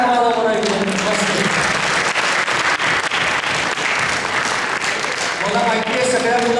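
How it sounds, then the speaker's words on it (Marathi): Loud, sustained applause from a school annual day audience of parents and children, dense clapping rising and holding steady, with voices and music faintly underneath. "सगळ्यांनी एकदम जोरदार टाळ्या वाजवा"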